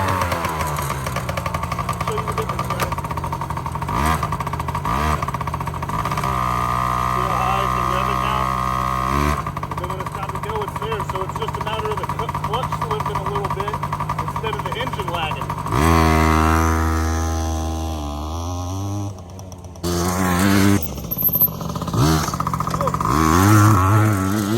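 A Yamaha BW80 barn-find motorcycle engine runs steadily and revs, its buzzing tone climbing and falling in pitch through repeated throttle blips, loud and close throughout with some speech over it.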